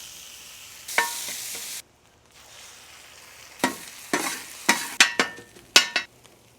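Potatoes fry in beef fat in a pan with bursts of loud sizzling as they drop in and get stirred, crackling in repeated sharp surges between quieter stretches, no voices.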